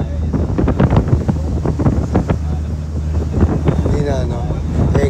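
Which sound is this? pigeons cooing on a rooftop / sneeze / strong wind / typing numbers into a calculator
strong wind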